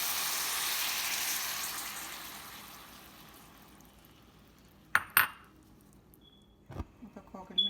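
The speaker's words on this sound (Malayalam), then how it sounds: "അപ്പോൾ കോക്കനട്ട് മിൽക്ക് ഒഴിച്ചു." Coconut milk is poured into a pot of Kerala-style okra stew, giving a soft, steady hiss that fades out over a few seconds, followed by several sharp clinks of utensils against the pot.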